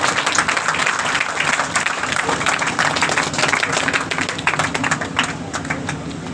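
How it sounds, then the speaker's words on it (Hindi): Students at a Shri Krishna AYUSH University gathering in Kurukshetra burst into loud, sustained applause, dense clapping from a crowd continuing steadily throughout at an even, strong level. "ये एक बार सभी स्टूडेंट्स जोरदार तालियों के साथ स्वागत करेंगे।"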